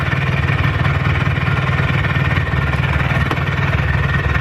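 An ATV engine runs steadily at idle with a constant low rumble and rough vibration, loud and close, with no clear rev rise and no talk.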